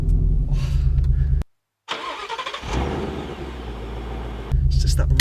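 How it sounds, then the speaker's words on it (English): A 5-litre V8 car engine cranks and catches after a brief silence, then settles into a deep, loud, close rumble that swells again near the end, heard alone. "You can hear the V8 rumble"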